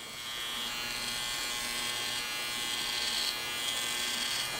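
A GammaStyleCraft Pro ACE hair trimmer runs with its blade hitting, giving a steady, close electric buzz with a high whine, continuous and alone for a few seconds.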